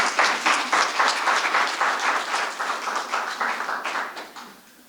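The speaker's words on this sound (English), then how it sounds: "Another round of applause for Kevin Johnson, please." An audience at a community center's 50th anniversary dedication ceremony claps steadily in a full, dense round that gradually thins and fades out at the end.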